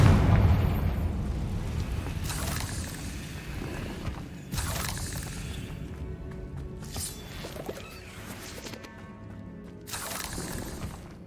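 Confringo blasting spell in Hogwarts Legacy, several fiery explosions bursting in a row with sharp booming onsets and crackling tails, fairly loud against a rumbling background.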